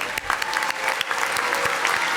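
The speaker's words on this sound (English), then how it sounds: "Please join me in applauding the accomplishments of this outstanding young colleagues" At a college of veterinary medicine commencement, a large crowd gives sustained applause for graduating honors students, with dense, even clapping that fills the hall and a few sharper claps standing out nearby.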